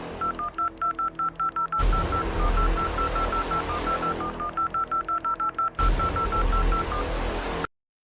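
Telephone keypad dialing tones in a Pokémon video game, a rapid string of short beeps in two runs, each followed by a loud sustained line burst, with no talk.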